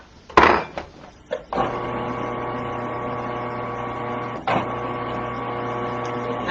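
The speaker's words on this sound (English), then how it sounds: "spin this some more in my food processor" A few clicks and knocks come first, then a food processor spinning a creamy keto scallop mixture starts up with a steady, close motor hum, broken briefly by a jolt partway through.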